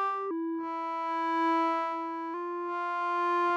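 Sustained synthesizer tones from a Reaktor 6 vector synth built on sine waves, playing a few held notes with clean steady harmonics and a pitch change between them, close and clear with no talking.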